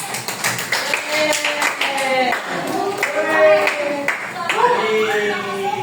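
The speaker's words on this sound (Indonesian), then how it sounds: "tepuk tangan dong buat ini" Students in a high school classroom give a short round of applause, a burst of scattered hand claps blended with voices and chatter.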